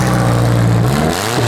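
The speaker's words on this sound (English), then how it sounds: "I'll wait for him to stop revving it before I talk." A demolition derby car's engine revs hard and loud right up close, a steady throaty roar that dips slightly near the end, with no talking over it.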